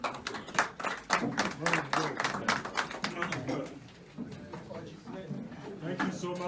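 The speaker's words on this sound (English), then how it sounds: "Round of applause, ladies" An audience at a gathering of the Ohaneze Ndi Igbo of South Africa breaks into a round of clapping that fades, then picks up again. Talk can be heard over it.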